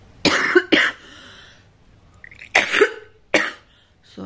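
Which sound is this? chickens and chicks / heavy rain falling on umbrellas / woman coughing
woman coughing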